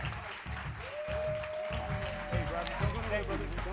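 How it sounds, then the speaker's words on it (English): Audience applause for Dr. Lester Young at a transformational leadership conference: a large crowd claps steadily and loudly throughout, with a few cheers and voices mixed into the dense, continuous clapping. "again, give another round of applause for Dr. Lester Young"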